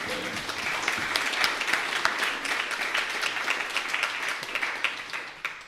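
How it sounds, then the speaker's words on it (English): An audience gives a round of applause, a dense, even patter of many hands clapping that holds steady and then tapers slightly toward the end, with no voices over it. "I think there's a round of applause in there, surely, isn't there?"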